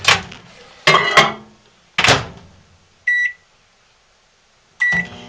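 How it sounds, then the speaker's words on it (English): Microwave oven heating soap scraps: clunks of the door and buttons, a single short electronic beep, then a sharp click and a second beep as the oven starts, each sound separated by near silence. "then I'm gonna put them on regular heat in my microwave for 30 seconds."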